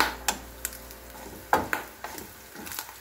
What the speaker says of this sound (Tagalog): Pumaputok na kasi na siya yung talagang crispy na.